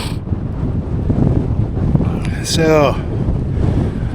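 Strong gusts buffet the microphone on a fell summit near Wasdale, a loud rough rumble that swells midway; a person says a single word.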